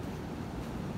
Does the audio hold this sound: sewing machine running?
no